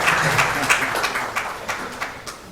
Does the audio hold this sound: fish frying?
no